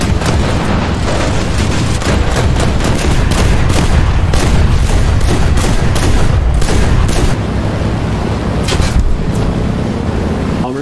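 Large aerial bombs dropped by bombers in War Thunder explode in a dense, loud barrage of deep booms and crackling blasts that roll on continuously.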